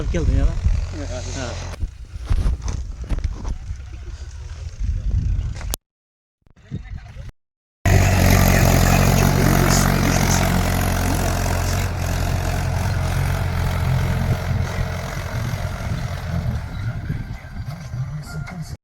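A tractor engine rumbles loudly and steadily during soybean sowing, with a brief silent gap midway before the low, droning motor noise returns at full strength.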